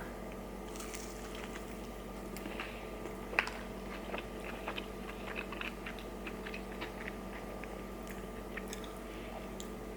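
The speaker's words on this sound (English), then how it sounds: "This batch they gave me definitely has a nice crunch to it." Crunchy Raising Cane's chicken fingers are chewed close to the mic, with scattered crisp bites and soft squishy chewing over a low steady hum, no talking.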